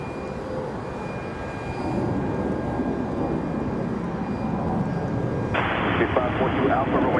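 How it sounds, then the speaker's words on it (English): A Boeing 737 departs Charlotte Douglas airport on a windy day, a steady broadband engine roar that swells slightly, joined near the end by a harsher hiss as thrust builds, heard from a distance. "737 departure"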